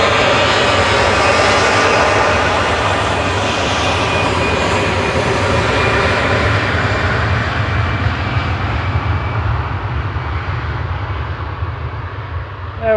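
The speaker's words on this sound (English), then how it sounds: "There we go, EasyJet to Amsterdam." EasyJet airliner departing Manchester Airport for Amsterdam, a loud, close jet engine roar that dominates throughout and slowly fades toward the end, with no speech.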